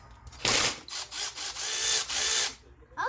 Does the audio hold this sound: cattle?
no